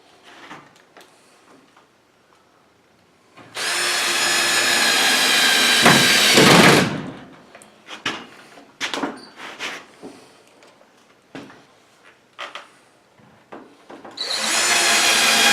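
A power drill whirs in two sustained bursts, driving screws into drywall during a house build, with knocks and handling clatter between the runs.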